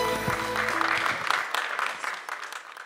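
Audience applause greets the local Sveti Roko cultural-artistic society at an evening folk event, a dense wash of clapping that fills the clip, loud at first and gradually thinning toward the end.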